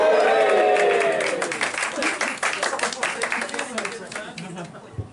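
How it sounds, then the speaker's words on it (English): Clapping from a comedy show audience during a power cut, starting loud under a voice, then thinning into scattered, uneven claps that taper off toward the end. "do you mind starting the clapping?"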